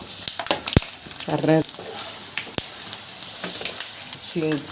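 Urad dal and mustard seeds sizzling in hot oil for pulihora, a close steady frying hiss with the clink and scrape of a spoon stirring in the pan.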